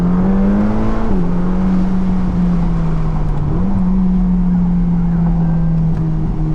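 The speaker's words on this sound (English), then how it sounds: "you feel and hear the violence of the screaming banshee that is the engine" Ferrari Roma Spider engine held at high revs near the red line, a steady loud drone with brief dips as the note shifts, heard from inside the car.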